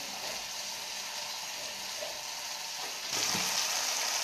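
Shrimp and vegetables with turmeric fry in a pan with a steady, close sizzle that grows louder and brighter near the end, with no talk.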